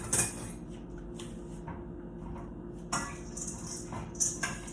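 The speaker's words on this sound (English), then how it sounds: "Stir it all up." Big spoon stirring homemade dog food in a bowl, soft wet squishing with occasional clinks and scrapes against the dish, quiet and close, in irregular strokes.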